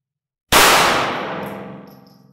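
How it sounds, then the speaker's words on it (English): A single loud shot at a shooting range is fired into the range curtain: a sharp, sudden crack that rings on with a long metallic decay. No voices. "I'm just going to fire the gun over here onto the curtain, okay, off the target"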